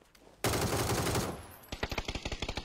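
Gunfire rings out in a shooter video game: a loud, sustained blast lasting about a second, a short pause, then a quick string of around ten sharp automatic shots, with no talk over them.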